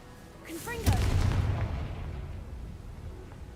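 The Confringo blasting spell in Hogwarts Legacy, a single loud, deep boom that bursts up close after a brief whoosh, then fades into a long rumbling tail.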